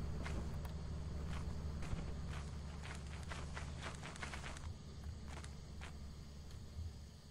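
Footsteps in the video game Lethal Company, a faint run of quick, regular steps that thins out into a few scattered steps over a low, steady background hum.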